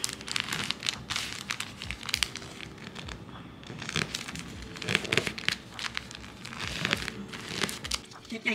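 Paper being folded and creased by hand to make a small gift bag, close-up crinkling and rustling in uneven bursts with sharper crackles at each fold, continuing throughout.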